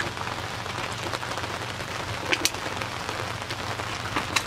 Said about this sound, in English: still beautiful rain.